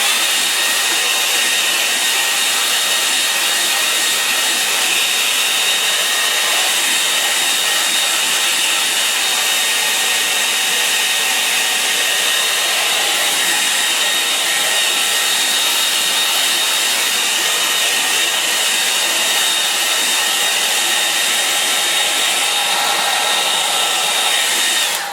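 A hair dryer blows continuously over a watercolour painting, a loud, steady, close whoosh that runs unbroken for the whole stretch with no voices.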